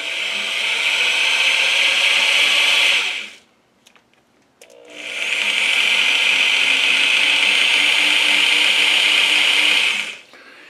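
A small, inexpensive electric drill whirs at a steady high pitch for about three seconds, stops briefly, then runs again for five more seconds, loud and close.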